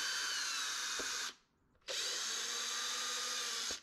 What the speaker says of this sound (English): Next, I remove the 4 screws that hold the wand stop cover on top.